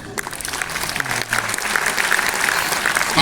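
An audience claps steadily at a Hindi poetry recital, a dense wash of applause that builds slightly toward the end, with a brief voice tone underneath.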